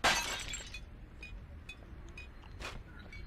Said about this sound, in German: wenn man die Flaschen einsammelt, gibt das so ein Klirren